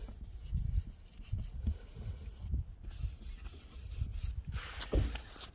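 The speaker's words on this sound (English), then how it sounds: "Just lay it on there, rub it out." A roof patch being rubbed down by hand onto a rubber membrane roof of a travel trailer, giving a steady scraping, rubbing noise in repeated strokes with no talking.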